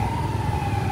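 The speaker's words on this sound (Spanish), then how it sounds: "Allá va una ambulancia todo ahí" A loud, steady ambulance siren wails continuously over low traffic rumble, passing close.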